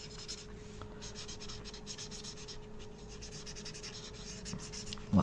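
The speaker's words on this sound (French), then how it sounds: "Je vais venir colorier sur à peu près 5 mm." A coloring pencil rubs back and forth across paper, filling a strip about 5 mm wide in a craft project with steady, close scratchy strokes, quiet and alone, ending in a brief louder bump.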